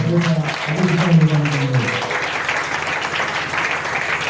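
A church congregation breaks into sustained applause, many hands clapping loudly together. A voice speaks briefly at the start, then the clapping continues alone.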